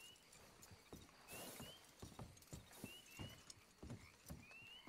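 Horse hooves clip-clopping at a steady walking pace in Red Dead Redemption 2, a series of distinct, fairly close hoof strikes on hard ground over a faint outdoor background.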